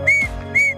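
A handmade whistle blown twice, each a short, bright, steady tone with a brief pause between, close and clear with no talking.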